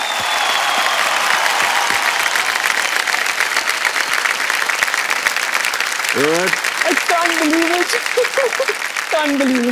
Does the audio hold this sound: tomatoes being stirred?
no